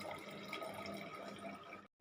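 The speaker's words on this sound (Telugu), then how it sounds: "1 కప్పు గోరువెచ్చని వాటర్ అండి." Lukewarm water poured for cold coffee, a steady close splashing trickle lasting nearly two seconds before a brief cutoff, with no talk.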